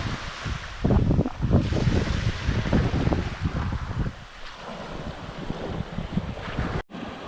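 Ocean waves breaking on a beach under gusty wind, surging washes of surf mixed with buffeting wind noise on the microphone, fairly close and continuous before a brief cut near the end.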